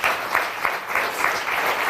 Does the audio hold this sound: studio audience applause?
yes